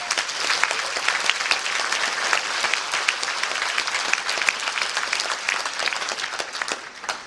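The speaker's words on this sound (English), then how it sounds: "Let's all give him another round of applause." Audience applause at a prayer breakfast honoring Dr. Martin Luther King Jr. in Asheville: steady, dense clapping from a sizeable crowd filling the room throughout, with no voices over it.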